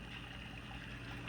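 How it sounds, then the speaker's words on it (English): Water trickles steadily into an aquarium sump through a filter sock fed by a large gray hose, a continuous close splashing flow with no voices. "Water comes in the back, and that big hose, gray hose, goes through a filter sock."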